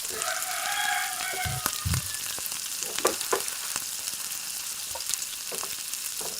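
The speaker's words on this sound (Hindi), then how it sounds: "आपने सही तरह टोस्ट कर लेना है फ्राई पैन में" Honey chicken wings toss with green onion in a frying pan, giving a constant close sizzle and hiss with scattered stirring knocks and scrapes.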